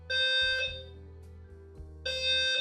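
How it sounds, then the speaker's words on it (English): An apartment complex fire alarm system under test: loud harsh electronic alarm tones blare in two bursts, separated by a quieter pause, with no speech. "There were some fun tests going on with the fire alarm system at my apartment complex."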